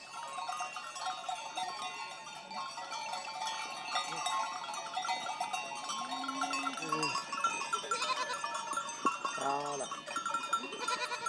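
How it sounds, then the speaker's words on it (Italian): Sardinian goats on a Sardinian farm bleat repeatedly, near and far, while cowbells clink and jangle throughout, with a person talking faintly in the background. "Di solito si alleva la capra sarda qua."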